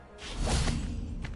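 The Revelio spell is cast in a video game: a single airy magical whoosh swells and fades, then a fainter shimmer follows at the end.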